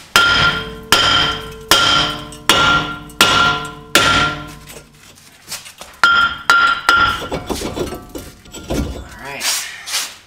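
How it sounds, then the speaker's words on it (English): Mallet strikes loosening a front brake rotor on a Chevrolet Cobalt, a run of loud metallic whacks with ringing decay at a steady pace, then a faster cluster of hits, with no talking. "whacks with the mallet."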